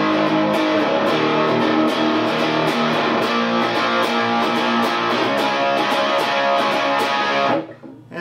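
Distorted electric guitar chords in drop D tuning, a dense, continuous strummed riff with steady rhythmic accents, played alone and close before stopping abruptly near the end.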